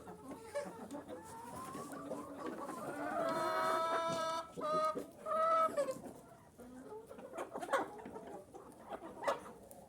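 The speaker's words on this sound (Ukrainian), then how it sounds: "Півні грають." Young roosters at play cluck and squawk close by in a farmyard, a run of irregular clucks and a few rising, strained calls clustered in the middle, fairly quiet overall.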